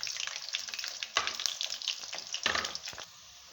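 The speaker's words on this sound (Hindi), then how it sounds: "मेरे ये देखें प्याज हमारा इस हद तक जो है फ्राई हो चुका है" Medium-sized chopped onion fries in a generous amount of oil for chana pulao. The hiss is steady and close, broken by a few sharper bursts as the onion is stirred, and it fades slightly at the end.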